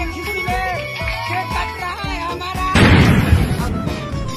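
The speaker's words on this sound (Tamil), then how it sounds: "என்னடா கேக்கலாம் வெடிக்குது" A cake bursts with a loud bang partway through, a sharp broadband blast followed by a noisy, crackling wash, set against a busy music-and-voice background in a funny-video compilation.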